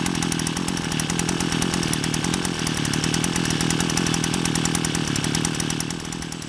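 A 52cc Baokaler GRM520 brush cutter engine idles while warming up, running with a steady, buzzy, rapid two-stroke putter that stays loud and close throughout and is heard alone.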